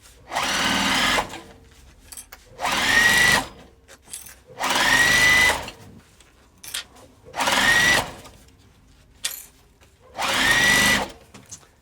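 A domestic sewing machine stitches the lining of a fabric crossbody bag, running in six loud, steady whirring bursts of about a second each, separated by short quiet pauses, close up.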